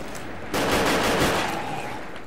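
Heavy, continuous automatic gunfire from a shooter video game with an HK417 rifle rattles loudly and densely for nearly two seconds, over a steady bed of background game noise.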